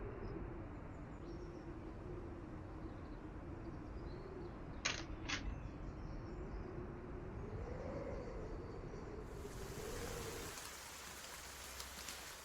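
Steady broadband rain-and-wind ambience playing as a weather backdrop during a tabletop role-playing session, a continuous hiss with a couple of brief sharp ticks midway and a louder, rougher gust-like swell near the end.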